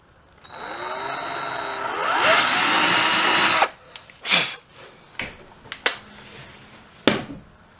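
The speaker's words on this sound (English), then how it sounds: "So I'm going to take a bigger bit, drill down through here for the bolts." A power drill with a large bit bores through wood for bolts for a couple of seconds, its whine rising, then stops, followed by scattered knocks and handling sounds.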